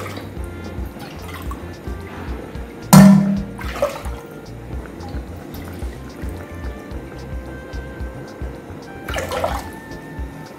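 Three cups of water poured into a pot of rice in a home kitchen, a sharp splash followed by steady liquid pouring and dripping, close and fairly loud, with a second splash near the end.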